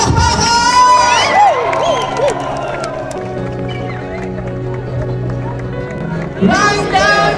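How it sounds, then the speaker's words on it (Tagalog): A loud, busy crowd at a surprise proposal in a training center, with cheering, whoops and shouting, plus bursts of applause and excited voices. The noise swells sharply near the end. "Isang malakas na sigawan at palakpakan!"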